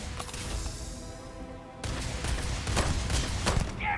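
Rapid bursts of gunfire in the video game Starfield crackle loudly and almost continuously, the volley intensifying in the second half with dense overlapping shots.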